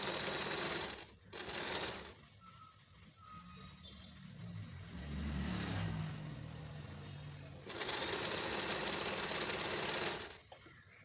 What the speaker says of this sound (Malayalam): ഇങ്ങനെ ഇത് കംപ്ലീറ്റ് നമുക്ക് സ്റ്റിച്ച് ചെയ്തെടുക്കാം.